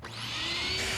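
A vacuum cleaner runs in a Lego animation, a steady, loud whirring drone with a rising whine, heard alone for a brief moment.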